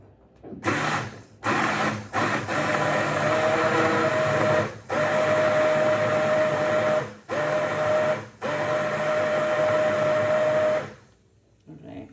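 A hand blender whirs in several bursts, its high motor whine starting and stopping repeatedly, close and fairly loud.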